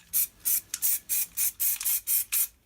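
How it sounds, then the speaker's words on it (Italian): Spray paint can hissing in eight short, evenly spaced bursts with brief pauses between them, close and fairly loud, while painting planets in spray paint art. "spruzzare così lentamente, fare un gioco, non tenere sempre calcato il pulsante"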